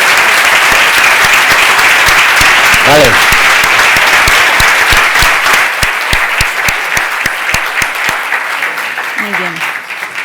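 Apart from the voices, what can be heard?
applause from the audience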